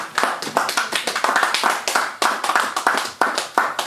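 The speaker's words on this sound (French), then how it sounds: "Si vous pouvez applaudir très très fort pour elle" Loud, dense applause from an audience at an awards night in Paris, many hands clapping steadily with irregular bursts throughout, close and sustained with no voices over it.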